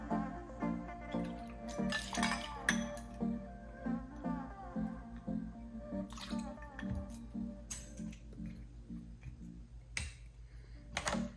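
Hennessy cognac poured over ice into a glass gives soft splashing and dripping with a few clinks, set against steady background music.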